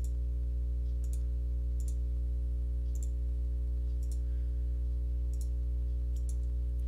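Sharp, close mouse clicks sound at irregular intervals, about eight in all, during drafting work in CAD software. A steady low electrical hum runs underneath the whole time.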